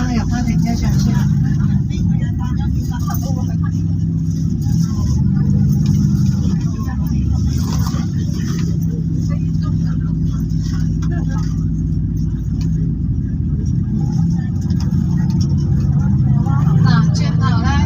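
Car interior drone as the vehicle drives and turns into a parking lot, a steady low engine and road rumble that continues unbroken, with someone talking over it.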